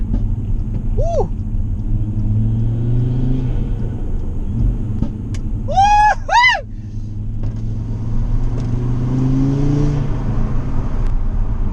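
Audi RS3 8V with stage 2 upgrades revving, a deep engine drone rising and falling in waves under a continuous low rumble, with a few short whistling tones in the middle.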